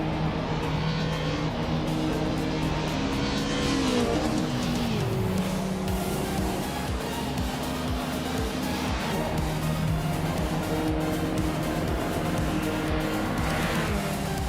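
A 1991 Ford Sierra Sapphire races around the Sydney Homebush Street Circuit in a racing game. The engine roars loudly and continuously, its pitch rising and dropping through gear changes, and there are brief tire squeals.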